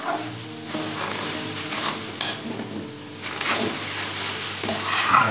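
Ripe banana paste being stirred in a pan over low heat while making barfi, a steady soft scraping and sizzle with occasional clinks of the spoon against the pan, close and fairly loud throughout.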